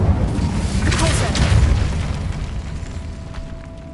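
A Repulsor spell going off in a video game, heard as a loud booming burst with a rumbling blast that fades away over several seconds, no voices.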